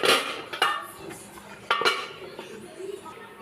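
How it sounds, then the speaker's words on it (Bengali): Metal lid placed over a wok while cooking, with a sharp clink at the start and two more knocks and rattles of metal on metal a moment later, close and alone. "কড়াইটা ঢেকে দিলাম"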